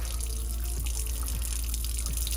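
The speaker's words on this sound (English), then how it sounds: "inside the RV, now we're at the kitchen sink. So we've got some water coming out there" Water runs steadily from an RV kitchen sink faucet while the plumbing is purged, a continuous close hiss and splash with a few faint drips and clinks, no voices.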